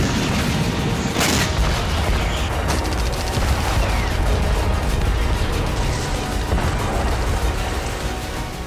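Explosions and booms ring out across Kyiv during Russian attacks, a dense, continuous roar of blasts and crackling gunfire-like bursts with sharp impacts near the start, heard with no talk.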